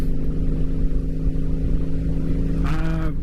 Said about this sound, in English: this bike does benefit and actually loves being revved.